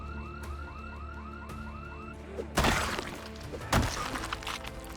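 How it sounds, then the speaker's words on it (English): A house alarm in Project Zomboid wails in a repeating rising warble, joined partway through by sharp crashing and breaking impacts that spike above the steady siren. "But this house alarm was"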